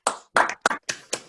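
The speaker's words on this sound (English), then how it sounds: "a round of applause is in order" A handful of sharp, separate claps over an online video call at a virtual awards celebration, close and sparse, from one or very few people rather than a full crowd.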